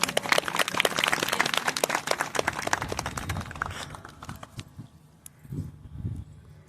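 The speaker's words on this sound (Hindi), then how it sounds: "तालियां बजा दीजिए।" Audience applause at a Shri Mahashivaratri Puja gathering, welcoming a senior colleague to the stage: a dense burst of many hands clapping that gradually thins into scattered claps and fades out, with faint low voices toward the end.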